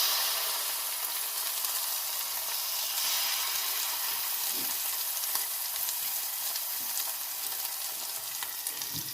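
Two seabass fillets pan-frying, a dense, even hiss and crackle of hot fat sizzling close up, continuous throughout with small pops.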